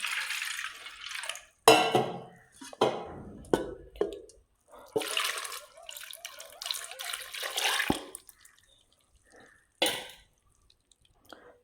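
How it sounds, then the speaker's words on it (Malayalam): Water is poured into a pressure cooker holding lentils and tapioca in a home kitchen, coming in several short splashy bursts with brief pauses and a few clinks of utensils, close and moderately loud with no talk. "നമുക്ക് ആവശ്യത്തിൻ്റെ വെള്ളം കൂടി ഒന്ന് ഒഴിച്ചു കൊടുക്കണം"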